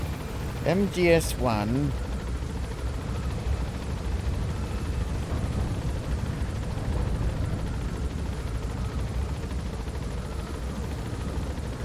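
Low, rumbling helicopter drone from Metal Gear Solid V as the craft climbs, a steady bass-heavy wash running throughout, with someone speaking briefly near the start.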